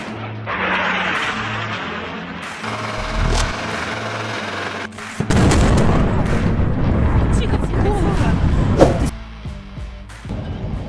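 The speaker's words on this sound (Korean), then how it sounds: "비현실적인 거대 폭발에 놀란 목격자들은 연신 탄식을 내뱉습니다." A Storm Shadow missile strike in Crimea on a large Russian Black Sea Fleet landing ship sets off a huge explosion: after a stretch of mixed background noise, a heavy deep blast bursts in midway and rumbles on loudly for several seconds.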